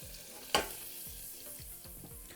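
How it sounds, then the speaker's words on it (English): Flour thickener being stirred into gravy in a pan, rhythmic scraping strokes of a utensil against the pan with a couple of sharper knocks, close by and without talk. "You want to mix it till it's like wet sand."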